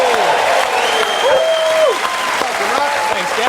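A studio audience at a televised Australian football show keeps up steady, close applause for several seconds while voices and a few calls rise over the clapping.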